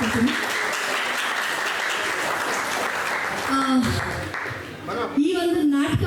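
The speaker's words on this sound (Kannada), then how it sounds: "ಮತ್ತೊಮ್ಮೆ ಅವ್ರಿಗೆ ಜೋರಾದ ಚಪ್ಪಾಳೆಯನ್ನು ಕೊಟ್ಟೋದ್ರ ಮುಖಾಂತರ ಎನ್ಕರೇಜ್ ಮಾಡಬೇಕಂತ ಕೇಳ್ಕೊತೀನಿ" Loud, steady applause from an audience at a music academy's second-anniversary program, continuous clapping filling the room while a voice briefly rises over it in the later seconds.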